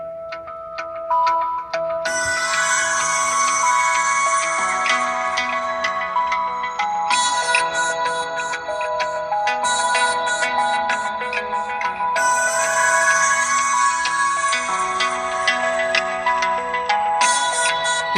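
Music plays through the stereo speakers of an iPhone SE (2020), a bright, busy electronic tune with steady beats and chiming melodic notes, loud and continuous throughout with no voices.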